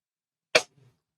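A single sharp sneeze bursts out close by, loud and brief, followed by a faint low trailing sound, then quiet.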